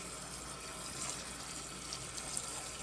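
Tap water runs steadily into a sink as dewberries are washed in vinegar water, a faint, continuous splashing hiss with no voices.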